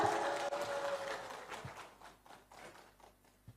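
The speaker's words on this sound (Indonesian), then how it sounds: "Tepuk tangan yang meriah untuk paslon nomor urut 1." Audience applause for a candidate pair at a 2024 regional election public debate in Kuningan, a burst of clapping that starts full and thins out, fading to a few scattered claps by the end.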